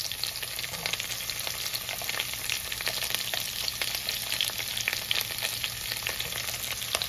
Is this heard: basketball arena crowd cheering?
no